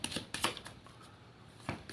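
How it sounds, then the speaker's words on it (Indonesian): A deck of tarot cards is shuffled close up, giving quick papery riffles and slaps in several short bursts with quieter gaps between them. "Saya shuffle terlebih dahulu."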